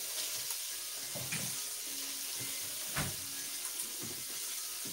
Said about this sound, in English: So now I'm gonna strain it and pop it right in there.